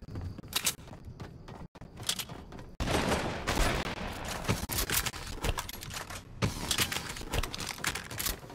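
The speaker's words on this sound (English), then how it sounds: "shots fired." Gunfire in a video game sounds in scattered bursts of sharp, rapid shots, some clustered like a fusillade, at moderate to faint level, with brief gaps between volleys and no speech.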